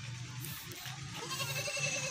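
Goats in a farm pen bleat in repeated nasal calls, several animals overlapping in a close, continuous chorus.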